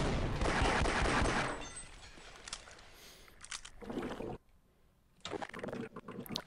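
Gunfire in Half-Life, a loud rapid volley of shots at first, then scattered shorter bursts and brief silences.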